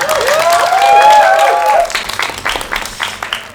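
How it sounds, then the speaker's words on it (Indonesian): An audience claps along at a comedy stand-up show, a burst of applause that fades into scattered claps as a voice talks over it. "Boleh minta tepuk tangannya dong hari ini yuk."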